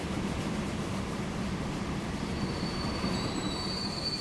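A train rolls along the line in the video game Transport Fever 2, a steady rumbling clatter of wheels on rails with a thin high squeal of wheels creeping in toward the end, no voices.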